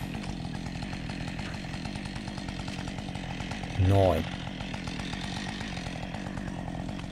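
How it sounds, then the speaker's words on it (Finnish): A chainsaw cuts steadily through a tree trunk during hard tree-felling work, its engine droning without a break while someone speaks briefly over it. "sitten ei muuta kuin kovaa sahausta"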